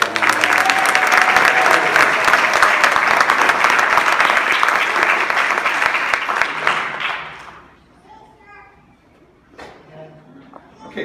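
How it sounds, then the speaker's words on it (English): A crowd at a graduation ceremony applauds a student for about seven seconds in a loud, sustained wash of clapping, which then fades out to quiet room tone with a few scattered claps and faint voices. "Let's give him a round of applause."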